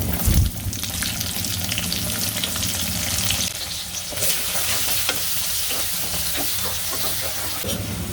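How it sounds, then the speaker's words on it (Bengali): Raw onions sizzling in hot oil with whole garam masala and meat for chicken biryani, a steady loud hiss and crackle with occasional stirring scrapes, close up and without talk. "পেঁয়াজটা ভাজি ভাজি হয়ে গিয়েছে।"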